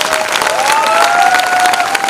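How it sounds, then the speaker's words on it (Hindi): An audience at a network marketing seminar in India claps loudly, with dense steady applause close by and a faint tone running through it. "एक जोरदार ताली हमारे सीनियर्स के लिए।"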